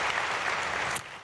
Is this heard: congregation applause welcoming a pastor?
yes